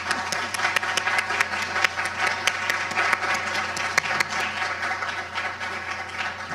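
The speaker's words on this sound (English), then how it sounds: "applause is now appropriate" Sustained applause from a crowd at a candidate forum, dense steady clapping with no break, fairly loud throughout.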